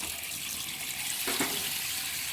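A freshly etched printed circuit board is rinsed under a running sink tap, giving a steady, close hiss of flowing water with a brief splashing change as the board passes through the stream.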